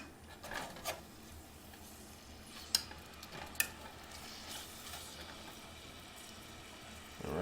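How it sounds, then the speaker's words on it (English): Low, steady frying sizzle of chicken in a pan over medium to medium-high heat, with a few sharp scrapes or clinks of a utensil partway through. "You can hear it start to sizzle."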